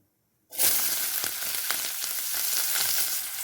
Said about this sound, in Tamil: ஒரு கடாயில் கொஞ்சம் எண்ணெய் சேர்த்துக்கலாம் கட் பண்ணி வச்சுருக்கிற வெங்காயம் சேர்த்துக்கலாம்